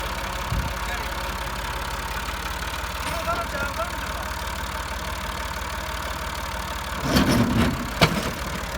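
A Massey Ferguson MF 260 tractor idles with a steady low engine chug, joined near the end by brief louder bumps and clatter, with people talking.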